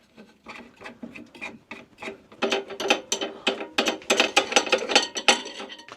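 A bolt being unscrewed on a thickness planer during a helical cutterhead upgrade, rapid ratcheting clicks in uneven bursts that grow louder and denser, close and with no talk.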